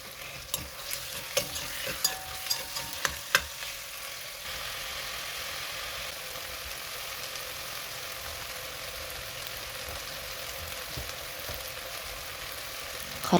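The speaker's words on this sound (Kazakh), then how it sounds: "Фаршты салып қуырамыз." Minced meat frying in a pan, a steady low sizzle with a run of spoon-stirring clicks and scrapes early on, settling into a quiet even hiss.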